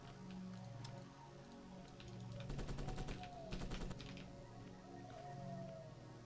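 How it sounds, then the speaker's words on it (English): Submachine gun fire in the twin-stick horror shooter Enemy Remains: two quick bursts of rapid rattling shots in the middle, set over steady game music and ambient drone. "Submachine gun."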